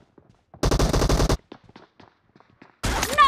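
Automatic gunfire in the PUBG Mobile video game, two loud rapid bursts of a machine gun separated by a quiet gap with faint footsteps and small clicks, the second burst ending with a ricochet-like whine.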